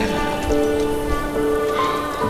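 Icy rain and wind high in the mountains near Cusco, Peru, at about 4600 metres: a steady, dense patter of rain on surfaces with a low gusting rumble, continuous and fairly loud throughout.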